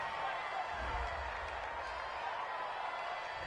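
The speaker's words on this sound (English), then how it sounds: "This home crowd, they're happy with that call." A home crowd at a Colts vs Raiders football game roars and cheers a call: a steady, dense wall of stadium noise that holds level for the whole stretch, with no distinct claps standing out.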